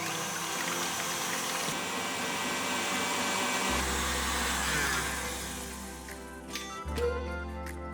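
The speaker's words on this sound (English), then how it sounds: "Now, I'm using a stand mixer. You can use a hand mixer, of course. I'm using a whisk attachment. We're going to whisk this on high" A stand mixer with a whisk attachment spins on high, giving a steady loud motor whir that shifts to a deeper drone partway through, then eases and wavers near the end.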